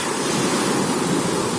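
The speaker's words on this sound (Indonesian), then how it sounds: "Pada saat ini kondisi laut jinak, ombaknya dapat kita lihat datang berulang, tapi tidak dengan tendangan yang keras." Gentle sea waves rolling in against a pier in calm water, a soft continuous wash of surf with some wind noise and no voices.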